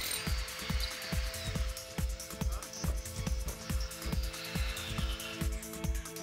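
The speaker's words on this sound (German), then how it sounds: "Bohren Sie senkrecht, und beachten Sie die benötigte Tiefe des Bohrlochs." A power drill runs steadily with regular rhythmic thuds of hammer action, drilling holes into a floor for a two-post car lift, loud and close, a grinding mechanical whine throughout.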